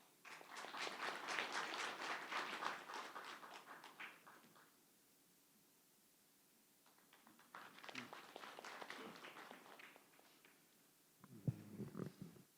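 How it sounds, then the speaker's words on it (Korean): Moderate audience applause at an academic conference welcoming a guest speaker, a burst of clapping that fades, then a second quieter round, ending in brief close handling sounds. "조광 교수님 큰 박수로 맞아주십시오."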